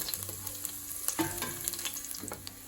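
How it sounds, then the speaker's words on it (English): Garlic cooking in olive oil in a pan gives a soft, steady crackling sizzle with occasional light pops and stirring taps, close and fairly quiet, with no talk. "Then we'll add the garlic. And cook that just until soft."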